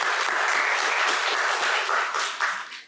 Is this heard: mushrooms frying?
no